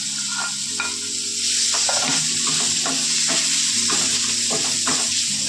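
Bitter gourd frying in a pan with nigella seeds and dried chili, a steady loud sizzle with repeated stirring scrapes of a utensil against the pan, close up and without voices.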